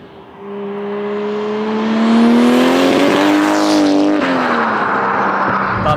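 A Toyota JZX90 Mark 2 with a 1JZ six-cylinder engine drifts past, its engine note rising to a loud screaming peak, then dropping back as tires squeal. No voices are heard.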